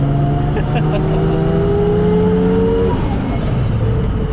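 A 900-horsepower Nissan R32 Skyline GT-R with a 3-litre engine drones loud and steady from inside the cabin, its pitch climbing smoothly and then dropping back, with voices talking over it.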